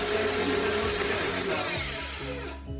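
An electric stand mixer kneads sourdough bread dough with a steady, loud motor whir and rhythmic low thumping of the dough, easing slightly toward the end, with no voices.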